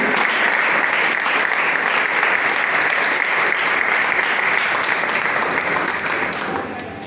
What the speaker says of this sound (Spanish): Den un fuerte aplauso a Jesucristo.